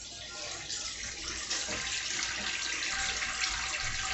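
Water being poured into a pot while cooking, a continuous steady rush throughout with no talking.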